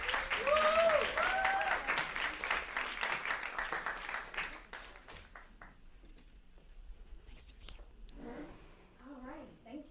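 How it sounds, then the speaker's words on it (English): Audience applause greets a farm founder at a food-future talk, loud and dense at first, then thinning out and fading as murmuring voices and a woman's speech take over. "Please give her a round of applause."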